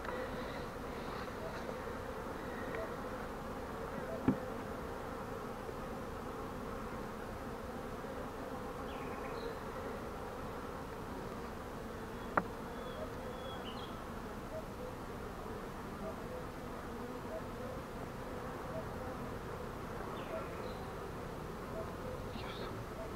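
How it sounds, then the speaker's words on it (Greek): Honey bees buzz steadily as they fly into a beehive during a summer nuc inspection, forming a dense, continuous drone throughout, with a couple of brief sharp clicks. "Μπαίνουνε μέσα στην Κυψέλη."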